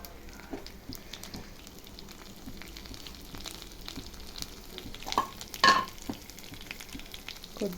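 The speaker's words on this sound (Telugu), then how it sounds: "తర్వాత ఇందాక మనం పచ్చిమిర్చి ముక్కలు పెట్టుకున్నాం కదా," Green chilli pieces fry in oil in a home kitchen, giving a faint, continuous soft sizzle with light stirring and a few brief clinks near the end.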